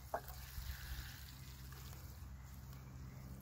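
Soft, steady trickle of water poured onto freshly transplanted superbells and snapdragons in a garden bed, low and faint, with a brief tap near the start.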